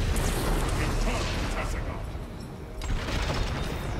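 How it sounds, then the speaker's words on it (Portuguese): Rapid gunfire and booming blasts from a StarCraft 2 co-op battle, with a Protoss Artanis force on the Scythe of Amon map, form a dense, loud, continuous crackle that barely eases midway before surging again. "Escutar alguns tiros aqui"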